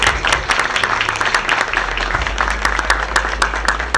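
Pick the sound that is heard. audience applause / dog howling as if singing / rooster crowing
audience applause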